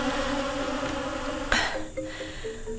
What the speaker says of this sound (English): are you picking up the buzzing?